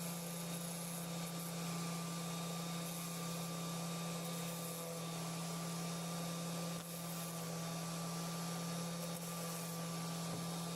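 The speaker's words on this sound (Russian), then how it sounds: "Делаем при помощи орбитальной шлифовальной машины." An orbital sander runs on oak with a steady, continuous motorized whir and a constant hum, without pause throughout.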